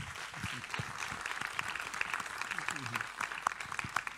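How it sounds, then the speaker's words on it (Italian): Applause for Salvo Nugnes at an art catalogue presentation, faint and distant, with a voice speaking over the scattered clapping. "io farei un applauso anche a Salvo Nugnese"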